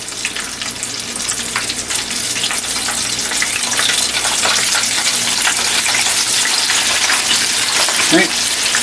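Chick-arrones frying in hot oil as a batch cooks, a steady loud dense sizzle and crackle throughout with no talking.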